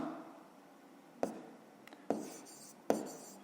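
Pen or pencil scratches across paper while a math solution is written down, with three distinct taps and strokes over a soft background hiss.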